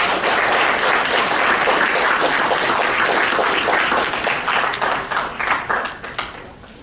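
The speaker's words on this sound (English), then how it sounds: "please, a round of applause for our first Sasin Management Oath takers" Sustained applause from a large crowd at a graduation oath ceremony, dense and loud, tapering off into scattered individual claps near the end.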